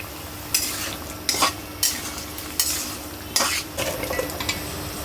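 Prawns and taro frying in spiced masala in a pan, with a steady sizzle under repeated scraping strokes of a spoon against the metal, roughly one stir every second, close and fairly loud, no talk.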